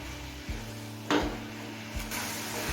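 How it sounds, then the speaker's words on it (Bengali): Grated coconut mixed with jaggery is stirred in a wok over high flame for kadam pithe filling, with a few soft scrapes and knocks of the spoon against the pan over a low, steady background hum. "এবার এই নারকেল আর গুড়টাকে হাই ফ্লেমে কিছুক্ষণ নাড়াচাড়া করে নেব"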